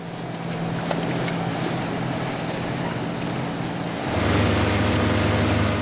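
Research boat out on the sea off Helgoland, engine drone under wind buffeting and wave wash, growing louder and deeper about two thirds through, no voices.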